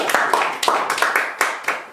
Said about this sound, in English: gonna clap for that